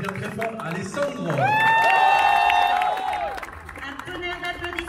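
Crowd applause at a closing-night show at Disneyland Paris: a continuous wash of clapping and cheering that swells in the middle and then eases, with a voice speaking over it.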